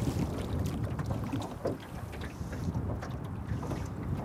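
Strong wind gusting across an open lake during fly fishing in September at Corbett Lake, British Columbia, a steady loud roar buffeting the microphone throughout with no talk.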